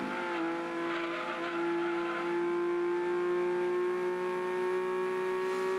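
A Nissan Skyline GTS25 races in Gran Turismo 2, its engine producing a steady, high-pitched whine that climbs gradually as the car accelerates, heard alone throughout.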